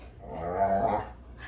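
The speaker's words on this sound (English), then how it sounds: "My dog is freaking out" An excited dog lets out a single short, whiny, growling bark nearby, fairly faint, with no talking over it.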